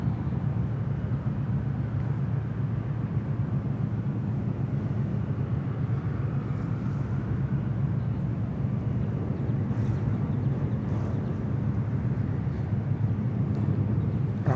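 A jet aircraft lines up on runway 34 left at Sydney Airport, a steady low engine rumble heard from a distance with no clear rise or fade.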